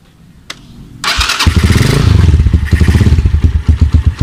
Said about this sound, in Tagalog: So, start muna natin yung motor.